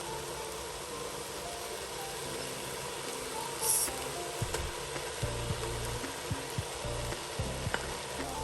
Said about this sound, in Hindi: अब अच्छी तरह भून लेंगे।